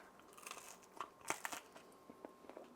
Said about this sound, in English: You can probably hear the crunch.